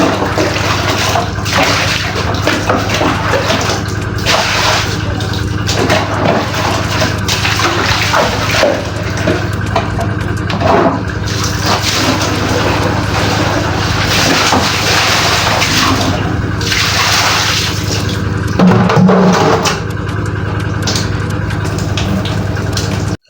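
Steady water runs from a faucet outdoors throughout, a continuous broadband wash with a low machine-like hum beneath it and occasional faint knocks and splashes.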